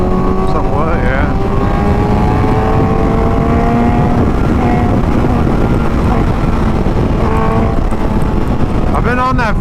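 Motorbike engines drone steadily on a group ride at Pismo, loud and close under heavy wind buffeting, with the pitch rising and falling as the throttle changes, while riders talk over the noise.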